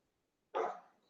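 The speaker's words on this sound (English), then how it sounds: "as you hear my dog bark in the background" A single dog bark sounds in the background, one short fairly loud bark that fades quickly, with no talking over it.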